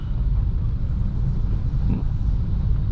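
A manual car creeps forward on the clutch alone with no throttle, its engine a steady low idle rumble that stays even and close throughout, with no talking.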